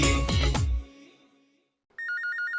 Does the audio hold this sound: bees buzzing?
no